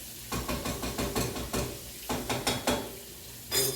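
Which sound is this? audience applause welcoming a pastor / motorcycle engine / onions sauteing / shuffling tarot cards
onions sauteing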